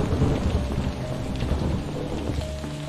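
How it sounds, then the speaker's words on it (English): Rain and thunder in the video game Five Nights at Freddy's: Security Breach, a dense steady downpour with low rumbling underneath, loud and continuous. "How would I stop the rain?"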